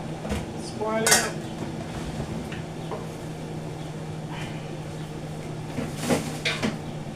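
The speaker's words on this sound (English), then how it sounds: "See my pot boiling, see my dumpling." Pots, pans and cutlery clatter in a kitchen during Jamaican-style cooking of brown stew pineapple chicken with beetroot dumplings, with sharp metallic knocks over a steady low bubbling hum of a boiling pot of dumplings.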